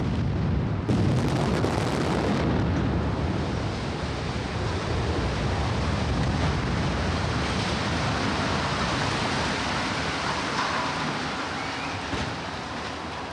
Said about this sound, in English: thousands watched the live stream as the sirens sounded just before a series of explosions